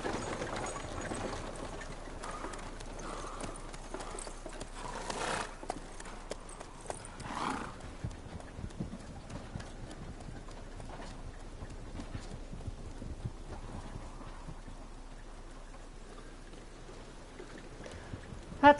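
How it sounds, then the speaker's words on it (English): Steady clip-clop of horse hooves trotting, rhythmic and moderately close, with occasional louder knocks and soft ambient noise. "Look at my horse. My horse is amazing."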